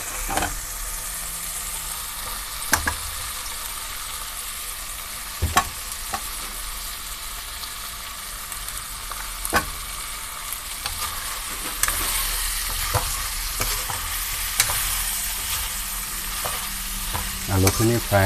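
Fried potatoes in a mutton and tomato curry, sizzling steadily in the pot while a spoon stirs and knocks against the metal at intervals, with the frying growing louder toward the end.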